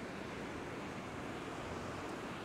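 Small waves wash up onto a sandy beach in full sun, stirring sand into a shallow trough, a soft steady broadband surf wash, fairly faint and without voices.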